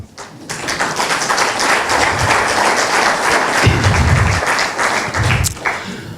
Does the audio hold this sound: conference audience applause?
yes